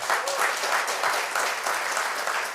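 Steady applause from an audience, sustained clapping throughout at a fairly loud, even level.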